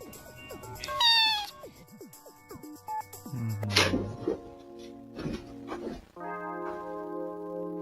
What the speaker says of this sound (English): He only had enough battery for 2 meows